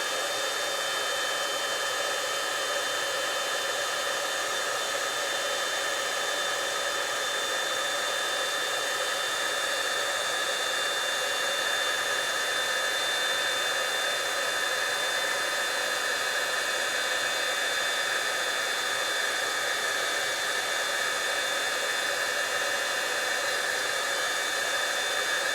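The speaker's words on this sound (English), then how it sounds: "we're going to just use some white embossing powder and let's heat that real quick. Grab my heat tool." A heat tool blows a steady, loud whooshing roar to melt white embossing powder on a handmade card, running nonstop throughout with no talking.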